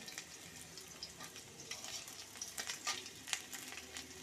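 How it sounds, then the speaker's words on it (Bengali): Eight to ten garlic cloves sizzle and crackle in hot oil with faint pops and the clatter of stirring, quiet and close, with no voices. "তেলটা গরম হয়ে গেছে আমি প্রায় আট দশটা রসুন আমি কিছু কিছু করে অ্যাড করে দিয়েছি"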